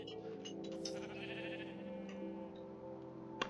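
A Minecraft sheep bleats in a long wavering cry, clear and alone, followed by a faint tick near the end.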